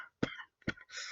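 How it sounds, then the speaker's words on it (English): A man with a lingering cough gives two short, sharp coughs close to the microphone, followed by a breathy exhale, with no talking. "as you can see, I've still got a bit of a cough"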